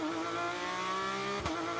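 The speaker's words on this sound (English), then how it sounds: "Drops the clutch." Onboard a Porsche Supercup race car launching from the start in Mexico City, a loud steady engine drone holding a high pitch, then a brief sharp jolt as it shifts, with no talk.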